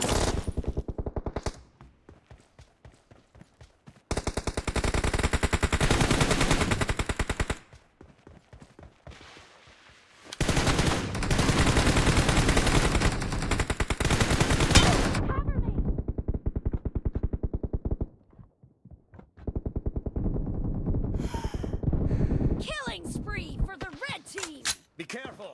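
Loud bursts of rapid automatic gunfire from weapons during a team match, several long volleys separated by quiet gaps, with voices heard near the end.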